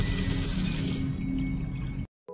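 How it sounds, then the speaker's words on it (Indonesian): Water runs steadily from a tap left open in a toilet room, a continuous close hiss and splash that cuts off abruptly near the end before a brief return. "mendengar suara air di toilet. Ia pun mengecek ke sana dan melihat keran air masih terbuka."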